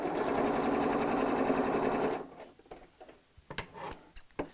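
Sewing machine stitching overlapped scrap fabric pieces for a patchwork bag, running in a steady loud burst for about two seconds, then stopping, followed by a few light clicks and handling sounds.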